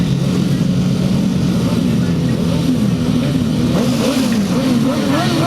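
Several grasstrack racing motorcycles rev loudly together at the start of a race, a thick rising and falling roar of throttles at close range, with a voice talking over the noise.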